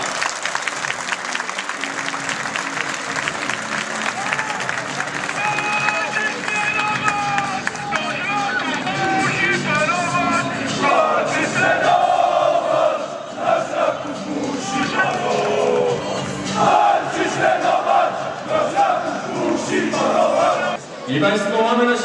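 A crowd applauds and cheers at a youth football Christmas tournament, a sustained, dense wash of clapping and shouting that swells and holds for about twenty seconds, with a voice over a loudspeaker above it.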